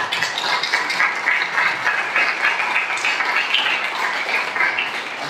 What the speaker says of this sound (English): if you just join me in a quick round of applause